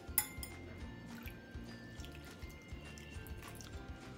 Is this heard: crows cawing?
no